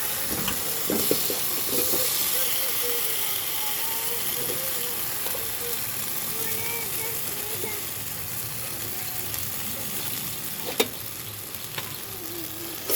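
Potatoes sautéing in spiced oil for dhoka, a continuous, fairly soft frying sizzle with occasional faint stirring clicks and a single sharper knock near the end.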